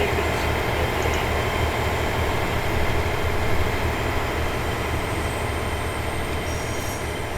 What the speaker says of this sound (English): our train will be coming in on this platform, and it's a class 220 Voyager with 4 cars, and here it is coming down now